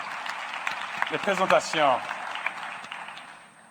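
Audience applause fills a conference hall at a youth and digital economy session in the Kigali Convention Center, a steady wash of clapping beneath someone speaking French into a microphone.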